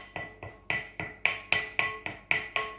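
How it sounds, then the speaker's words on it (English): A spoon scrapes around the side of a mixing bowl of raspberry and apple crumble slice mixture, about ten sharp, evenly spaced strokes, each a clear scraping hit that fades quickly, close and fairly loud, with no talking. "you can just scrape down around the side of your bowl with your spoon"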